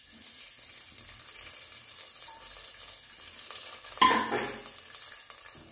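Garlic pieces fry in hot oil with asafoetida and cumin, a steady soft sizzle with light stirring and a brief louder scrape of a utensil in the pan.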